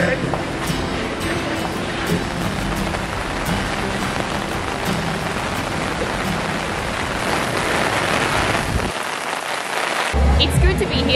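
Heavy rain falls outside in South Korea, a steady dense hiss of drops on surfaces throughout, with a brief muffled lull near the end.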